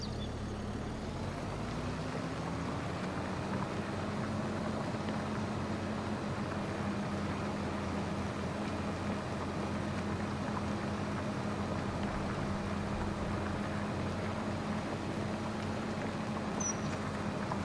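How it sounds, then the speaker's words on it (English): A farm tractor pulling a plow across a field in Farming Simulator 25, its engine holding a steady, close drone that rises in pitch after the first couple of seconds and stays even throughout, with no talking. "tractor pulling the plow."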